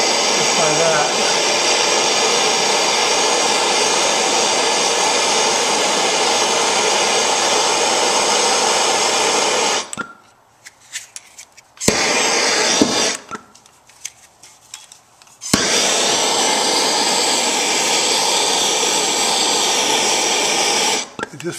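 A torch roars steadily while heating a copper fitting for soldering during a water heater replacement, loud and continuous, then drops out twice briefly with quieter gaps and bursts before resuming.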